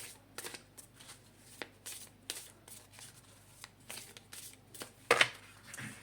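A deck of petit oracle des anges oracle cards shuffled close by, soft papery riffles and slides in uneven bursts with a sharper snap near the end.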